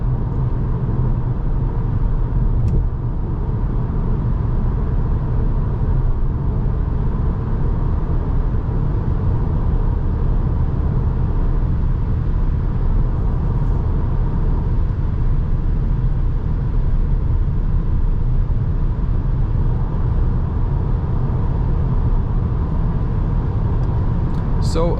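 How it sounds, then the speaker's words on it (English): Steady road and wind roar inside a 2021 Cupra Formentor VZ cruising at 130 km/h on winter tires over rough asphalt, a dense continuous low rumble throughout with someone talking over it. "so a little bit more wind noise considering the shape of the car"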